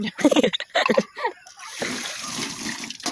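Water from a shower splashes steadily into a container, a continuous close hiss and spatter that starts after a voice speaks briefly and then runs on alone.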